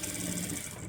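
Sewing machine stitching a blouse sleeve: a brief, continuous whirring run of rapid needle strokes at close range, with no voices.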